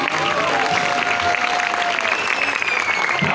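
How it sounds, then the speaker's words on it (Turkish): Wedding guests in Antalya clap together in a thick, steady burst of applause, with thin whistle-like tones and crowd noise threaded through the clapping. "Alkışlar gelsin."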